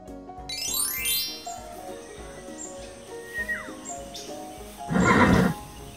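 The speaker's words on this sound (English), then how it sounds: "Oh, wow! It's a horse!" A horse whinnies loudly near the end, a shrill descending neigh, after softer rhythmic background music with a brief bird-like chirp.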